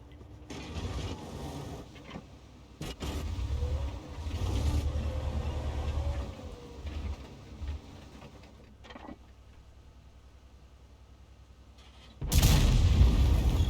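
A KV-2 tank cannon in World of Tanks fires one loud, abrupt blast near the end, after a stretch of quieter, rumbling battle ambience.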